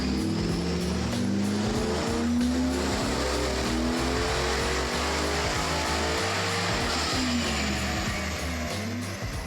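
Turbocharged Mustang Cobra with a forged Audi-type blow-off valve on a dyno, engine roaring steadily at high revs through a pull with mufflers fitted, loud and continuous, close by.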